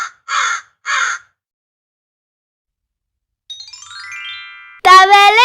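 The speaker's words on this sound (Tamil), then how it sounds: "காகம் crow." A crow gives three sharp, loud caws in quick succession, followed after a pause by a bright tinkling chime and then a voice speaking.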